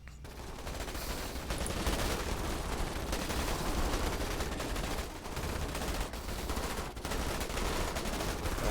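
Sustained dense gunfire from the sci-fi strategy game Starship Troopers: Terran Command, a continuous rattling fusillade of many rifles firing at once, loud and unbroken apart from a few brief dips.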